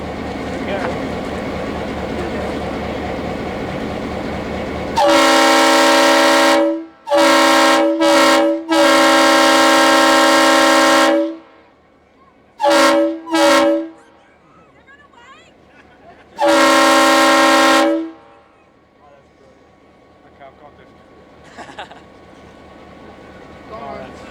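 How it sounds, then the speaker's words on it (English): A heritage locomotive horn blasts loudly several times, long and short bursts near and overpowering, with a steady mechanical hum between them, at a railway heritage centre open day. "Ready for the horn?"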